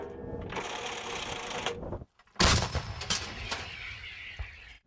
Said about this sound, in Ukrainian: Ціль уражена залпом з кількох гармат.